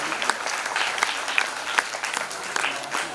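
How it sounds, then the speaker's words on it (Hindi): A hall audience at a Bharat Vikas Parishad Delhi regional group-song competition bursts into loud, hearty applause, with thick, continuous clapping and sharp individual claps standing out through the din. "इसलिए मैं कहता हूँ जोरदार तालियां हो जाएं।"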